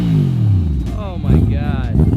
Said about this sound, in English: Ben, rev the thing up a little bit. Give me a little rev.